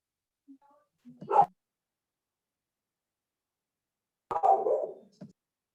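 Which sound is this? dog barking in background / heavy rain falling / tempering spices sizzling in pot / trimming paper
dog barking in background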